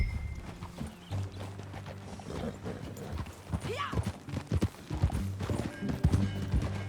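Horse hooves clip-clop at a walking pace in the Red Dead Redemption 2 video game, steady and moderately near over a low ambient drone, with a brief spoken word.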